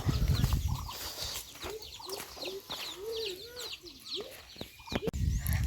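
Chickens cluck on a cold morning farmyard, a run of short rising and falling calls repeating through the clip at moderate distance, with faint outdoor background noise around them.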